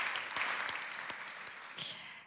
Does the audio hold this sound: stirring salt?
no